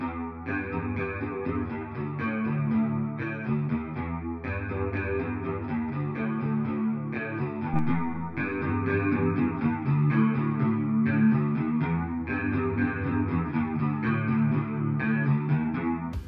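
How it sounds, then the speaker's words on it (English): Clean electric guitar recreating a song's tone, with a shimmering chorus and spacious reverb, plays a repeating chord pattern, steady and alone. "Here's how the clean guitars sound with and without the plugins."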